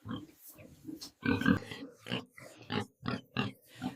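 Pigs grunt and snort in a series of short, close bursts in a village pigsty, one louder squeal-like grunt among them.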